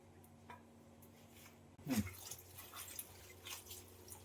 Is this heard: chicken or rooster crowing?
no